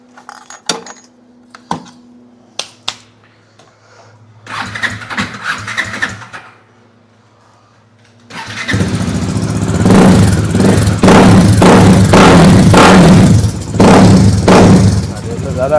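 Bajaj Dominar 400 motorcycle with an upgraded exhaust and DB killer: a few clicks and a short cranking burst, then the engine catches into a loud, deep, steady idle with small throttle blips, close by.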